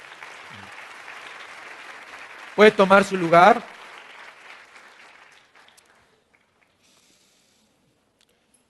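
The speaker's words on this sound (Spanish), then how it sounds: "Dele otro fuerte aplauso al Señor." A church congregation breaks into a short, loud burst of clapping lasting about a second, set against a quiet hall with a voice speaking before and after.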